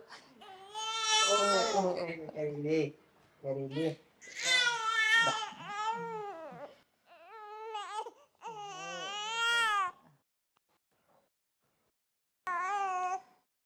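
A newborn baby wails in high, rising and falling cries, several long bursts separated by short pauses, then one last brief cry after a silence.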